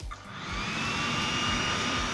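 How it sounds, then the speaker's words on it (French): A small 12-volt electric fan spins up and then runs with a steady, close, whining hum and a high motor tone, with no one talking. "On fait le ventilateur plutôt. 12 volts."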